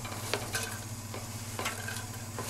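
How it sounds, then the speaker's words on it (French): Small diced onions frying in olive oil in a pan for a spring asparagus risotto, a steady close sizzle broken by periodic scraping strokes of a utensil stirring them. "On va faire revenir nos petits cubes d'oignons."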